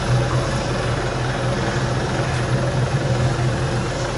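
Continuous loud rotor thump and engine roar of a helicopter in Arma 3, steady and close with no voices.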